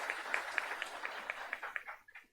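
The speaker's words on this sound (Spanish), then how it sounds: "Un fuerte aplauso, por favor" Audience applause at a book presentation on the right to life and abortion, a dense patter of clapping that swells briefly then fades out near the end, moderately loud and alone.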